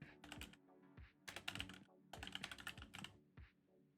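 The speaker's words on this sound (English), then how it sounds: "We're going to type in our domain right here." Fingers tap out a domain name on a computer keyboard, bursts of rapid close clicking keystrokes separated by short pauses, with a few single heavier key presses.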